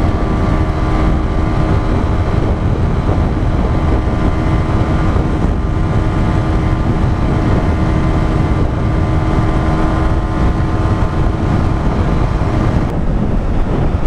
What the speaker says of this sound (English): And now the sixth gear. Let's see how much this bike goes up to.